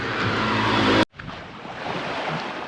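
Sea waves wash onto a beach as the tide rises: a loud, steady roar of surf, broken by a short gap, then continuing as a softer, sustained wash close by.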